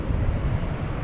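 An Air Canada airplane at Logan Airport gives off a loud, steady, low engine roar with wind-buffeted rumble, heard alone for a brief moment.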